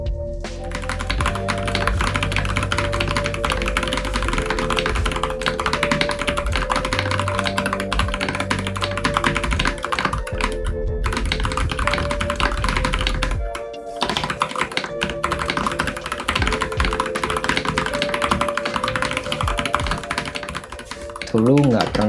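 Typing on a Keychron V10 Alice-layout keyboard fitted with light red switches, a dense continuous clatter of keystrokes running throughout over steady background music, with a brief dip near the middle.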